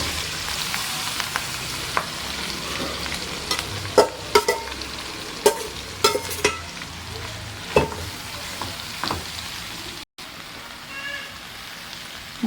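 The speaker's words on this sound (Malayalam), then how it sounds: "നമുക്ക് അരിഞ്ഞു വെച്ച മുളക് പൊടി ഇതൊക്കെ ചേർത്ത് ചാമ്പങ്ങ ഇട്ട് കൊടുക്കാം." Chopped star fruit fries with chili powder in a pan for pickle, a close, steady sizzle broken by scattered sharp clicks and taps of stirring utensils.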